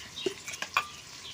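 Chicken cooking in a pan as ginger paste is added, giving a few soft stirring scrapes and light clinks over a quiet sizzle, close and brief.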